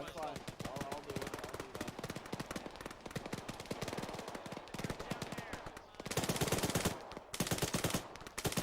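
Sustained bursts of L86 Alpha light machine gun fire in ARMA 3, dense rapid cracks through a close firefight that swell into louder, heavier volleys near the end, with other gunfire mixed in.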